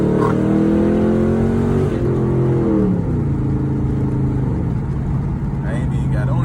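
A tuned Dodge Charger SRT8 engine revs loudly from the driver's seat, its pitch climbing then dropping before settling into a steady, throbbing idle, with a voice talking over parts of it.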